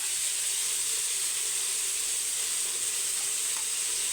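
Onion, tomato and ginger garlic paste fry in a pan for chicken biryani, giving a steady, even sizzle and hiss throughout, close and alone with no talking.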